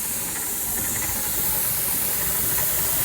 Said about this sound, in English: steaming like a freight train right now